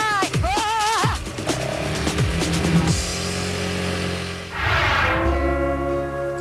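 An ATV engine revs hard in Hawaii as the rider pops a wheelie, rising and falling whines near the microphone with a second loud rev-up toward the end.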